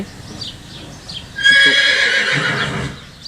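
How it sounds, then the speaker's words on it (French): Several horses whinny loudly and excitedly as a new horse arrives, shrill neighs rising and overlapping for over a second, with faint hoof clip-clop and low background noise. "il y a un nouveau cheval qui vient d'arriver, là, ça y est, ils sont tous fous maintenant."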